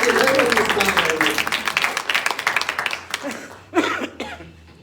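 An audience at a Saraswati Puja prize ceremony claps in a dense, steady burst that thins out after about three seconds into scattered claps, with voices and a cough mixed in.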